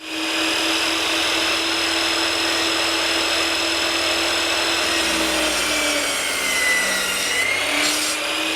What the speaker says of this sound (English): Now it's time to head over to the drop saw.